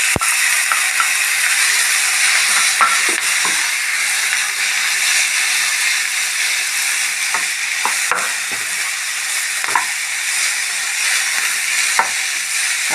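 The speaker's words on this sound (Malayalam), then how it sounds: "അപ്പോൾ ഇതെല്ലാം കൂടിയിട്ടൊന്ന് ഫ്രൈ ആയോട്ടെ." Egg and boiled beetroot fry and sizzle in a pan with a steady hiss, broken by occasional scrapes and stirs of a spatula; no voices.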